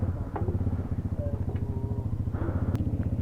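Motorcycle in Pakistan on the road toward Shandur Top, climbing slowly uphill: a close, steady low engine thrum with rhythmic pulsing at low revs, with faint clatter and a few brief background voices.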